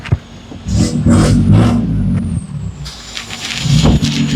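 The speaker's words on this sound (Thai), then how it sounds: "เดี๋ยวให้ฟังเสียงท่อนิด ๆนนะจ๊ะ" A modified 2020 Isuzu D-Max Z four-door pickup revs its exhaust in a few loud, close bursts, with a whirring tone and brief pauses between blips.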